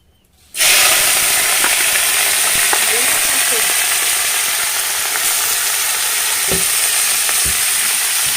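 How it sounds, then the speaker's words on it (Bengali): After a moment of near silence, potatoes, onions and gime greens hit hot oil with a sudden loud burst of sizzling. The frying continues as a strong, steady, close hiss with occasional stirring clicks. "তেল গরম হয়ে গেছে দিয়ে দেবো আলু পেঁয়াজ এবং গিমে শাক"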